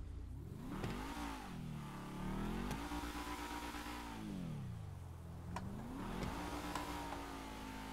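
A 2019 Toyota Camry in GTA 5 revs repeatedly, the engine sweeping up and down in about three drawn-out surges with a steady mid-range drone, heard alone at low volume.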